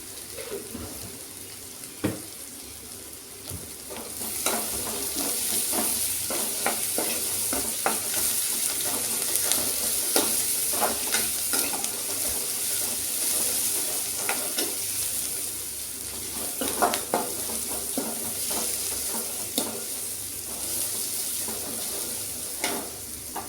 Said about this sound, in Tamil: வெங்காயம் நல்லா வணங்கிடுச்சு.